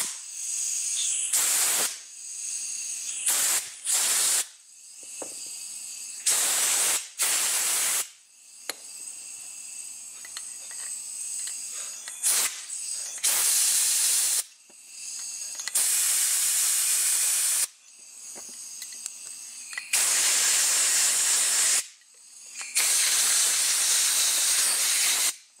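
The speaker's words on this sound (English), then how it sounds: "Then hook up a spray tool," Compressed-air spray tool blowing out disassembled paint gun parts during cleaning, in repeated loud hissing bursts of varying length separated by short pauses, with a quieter steady hiss between some blasts.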